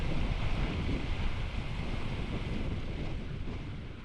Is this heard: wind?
yes